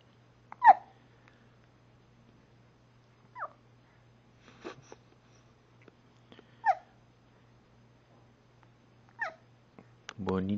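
A baby hiccups four or five times at uneven intervals, each a brief close squeak-like gulp, over a faint steady hum, with a voice speaking at the very end.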